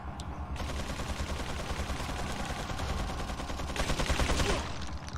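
Rapid gunfire from a zombie enemy in Resident Evil 4 crackles in dense bursts, a fast stuttering volley running almost nonstop and growing a bit brighter and louder near the end.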